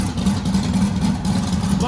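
A car engine idles roughly and loudly up close in a garage after a disc brake conversion, a steady low droning rumble with a slight uneven pulse.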